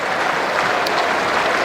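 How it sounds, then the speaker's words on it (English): A cricket crowd applauds England reaching 100 runs in a Test match against New Zealand, a steady wash of clapping from a large stand that carries evenly through the whole moment without a break. "There's the applause."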